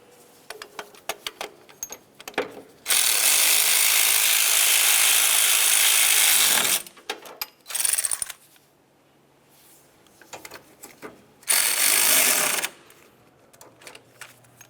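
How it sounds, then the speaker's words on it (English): Ratcheting bursts from tightening the alternator mounting bolts on a 2006-2011 Honda Civic, a long loud buzzing run of about four seconds, a short burst, then another two-second burst, close up with quiet clicks between. "Now let's tighten the lower bolt and then the upper."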